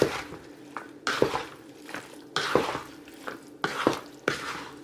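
Dressing being stirred into a pasta salad, wet squelching scrapes of a utensil through the bowl in several distinct strokes about a second apart, close and clear with no talking.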